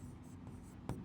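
Pen scratching on paper in a short burst of writing, close and fairly quiet, with no talking.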